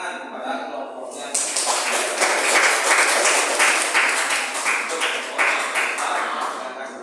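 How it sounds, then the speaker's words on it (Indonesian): Classroom audience claps for a student group after its presentation; dense, steady applause swells in about a second in and carries on to the end, with background murmur of voices. "beri tepuk tangan kepada kelompoknya"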